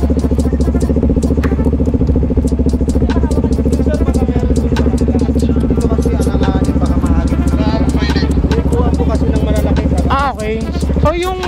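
A Yamaha NMAX scooter engine hums steadily at low speed, a close, continuous drone with rider talk over it and the pitch shifting near the end.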